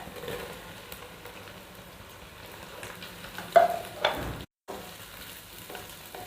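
Okra tossed into a hot pan keeps up a low steady frying hiss, with a couple of louder stirring scrapes midway and a brief cut to silence.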